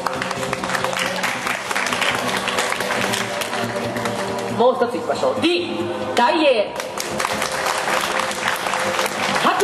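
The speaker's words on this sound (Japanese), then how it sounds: "それでは皆さん拍手でお願いいたします。" An audience at a Japanese baseball-themed quiz show votes on answers with applause: a loud, sustained wash of clapping from a crowd that continues while a host talks over it.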